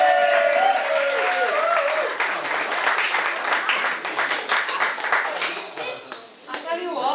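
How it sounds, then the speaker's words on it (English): A live audience gives a big round of applause to a performer named Julie, steady close clapping that swells right after a brief spoken introduction and holds for several seconds, thinning slightly toward the end. "Big round of applause."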